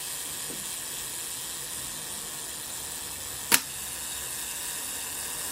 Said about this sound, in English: you just heard the clack of the shutter